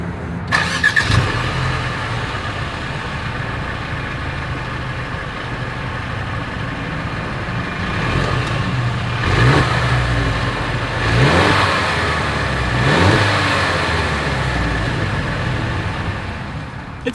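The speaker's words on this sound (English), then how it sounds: "As always, here is that exhaust clip." A 2022 Mercedes-Benz GLC 300 SUV engine runs steadily at idle, then revs up in several strong bursts, each swelling and falling back, the exhaust loud and close.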